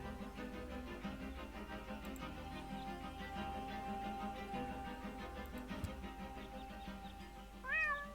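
A cat meows from within the Deponia adventure game soundscape, set against steady game music and ambience, with a louder, rising meow near the end.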